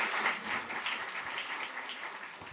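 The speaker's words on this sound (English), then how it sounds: "Let's give a round of applause for our amazing speakers" Audience applause at a lupus patient conference, a dense steady wash of many hands clapping together, moderately loud and sustained throughout with no talk over it.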